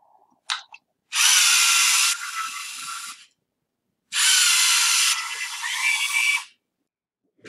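LEGO Mindstorms EV3 robot motors run a program, one motor at full power forward and the other in full reverse, giving two separate whirring mechanical bursts of about two seconds each, loud and close, with a shift in pitch partway through each burst.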